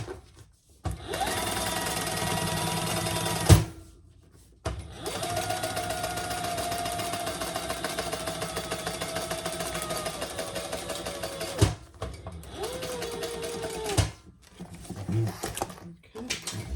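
A sewing machine top stitches a bag in several long, fast runs of stitching broken by short pauses, close and clear, with some quiet handling noise between the runs.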